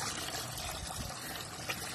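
Water pours into a bucket for cattle, a steady close splashing rush that lasts throughout without a break.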